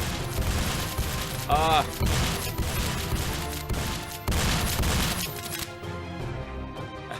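Rapid gunfire from several guns at once in a small Ludum Dare indie video game, dense layered shots crackling loudly throughout amid game music and effects, with a brief exclamation from a player.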